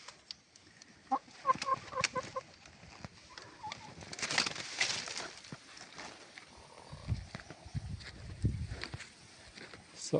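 A hen clucking while looking to lay eggs in a backyard poultry setting, a short series of soft rhythmic clucks early on, followed by rustling and other fowl sounds nearby.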